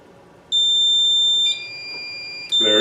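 Fire alarm control panel sounding its trouble signal after an addressable SLC module loses communication: a loud, steady electronic beep tone starting abruptly, shifting pitch slightly midway, then rising again at the end, with no talking.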